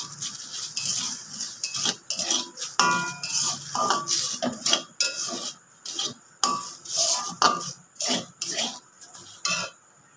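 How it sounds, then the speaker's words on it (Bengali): Dry lentils stirred in a dry pan with no oil or ghee, rasping and scraping as the spoon moves through them in a steady, continuous rhythm, close and clear, with no talking. "ডালটা এমনি শুকনো খোলাতে নাড়বো।"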